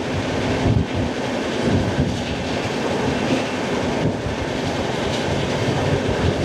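The Sealdah summer special train runs along, a dense continuous roar of wheels and carriage rumble mixed with wind buffeting, close and steady from on board with no talk.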